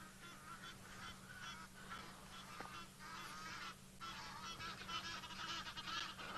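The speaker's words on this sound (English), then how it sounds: "Flock of Egyptian geese flying over us." A flock of Egyptian geese honks repeatedly as it flies overhead, a noisy overlapping chorus over a steady background hum.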